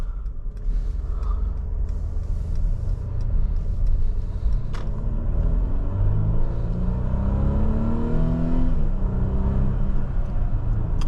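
A 2023 Mercedes-Benz GLC 300 4MATIC Coupe's turbocharged four-cylinder engine, heard from inside the cabin in Sport Plus mode, rumbles low and steady, then climbs in pitch as the car accelerates, with no talking.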